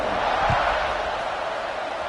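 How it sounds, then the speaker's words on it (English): Football stadium crowd buzzing during a Browns game after a score ties it in the fourth quarter, a steady broad roar filling the space, loud and continuous with no clear breaks. "this crowd is buzzing after that last score"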